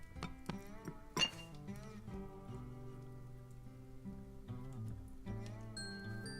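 In the video game Broken Age, a piece of glass is picked up with a bright chime layered over soft game music, a few quiet tinkling notes ringing out amid the melody.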